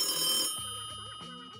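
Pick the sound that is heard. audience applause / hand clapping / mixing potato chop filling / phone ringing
phone ringing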